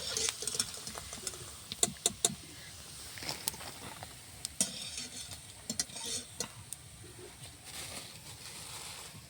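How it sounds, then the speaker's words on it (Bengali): Papad being fried in hot oil in a pan at home, giving a steady crackling sizzle with scattered sharp pops and clinks of a utensil, near and alone without talk. "এর পাঁপড়গুলো সব ভেজে নেব।"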